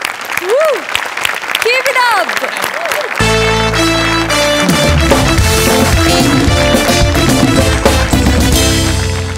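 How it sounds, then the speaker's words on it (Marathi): A studio audience at the Marathi comedy show Maharashtrachi Hasya Jatra applauds loudly under a speaking voice for about three seconds, then music takes over. "सावत्यासाठी एकदा टाळ्या वाजल्या."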